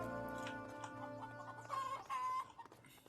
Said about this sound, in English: Oh, and they even cluck. They're clucking chickens.